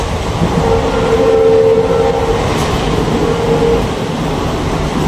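Local passenger train in Assam rolling along at speed, a steady loud rumble of wheels and carriage noise with a sustained horn-like tone partway through, no talk.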